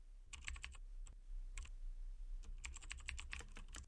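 Keys clack on a computer keyboard while code is typed in a programming exercise, in quick bursts of close, crisp clicks separated by short pauses, with no voices.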